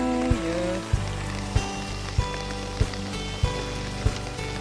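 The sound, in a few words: rain falling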